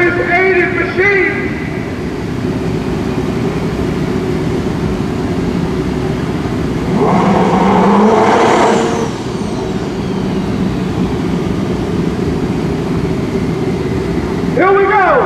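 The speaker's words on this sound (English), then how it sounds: "200 plus mile an hour. Turbo and nitrous aided machine." A turbocharged, nitrous-assisted pro street drag race car capable of over 200 mph roars loudly at a drag strip qualifying round, swelling to a peak midway, while an announcer talks over the engine noise.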